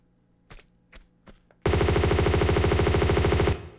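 Gunfire in Tomb Raider 2 Gold: a few faint isolated clicks, then a loud sustained rapid burst of evenly spaced shots lasting about two seconds before stopping abruptly.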